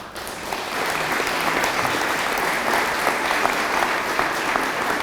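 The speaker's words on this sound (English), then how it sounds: "So give yourself a round of applause for that." Crowd at an Oklahoma City press conference for the Rayo OKC team breaking into applause, a dense, loud, steady patter of many hands clapping that swells quickly and holds.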